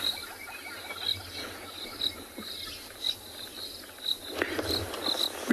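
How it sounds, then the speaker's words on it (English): Crickets chirp softly at sunrise on an African safari, a steady series of short high pulses repeating about once a second over faint background bush ambience, with no voices. "We can also hear the soft chirping of crickets in the background"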